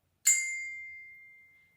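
A single desk bell is struck once, giving a bright, clear ding that rings on and fades slowly over more than a second, heard alone.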